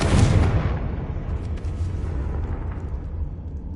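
A Confringo blasting spell explodes in Hogwarts Legacy, a loud close boom at the start whose rumble fades away over a few seconds.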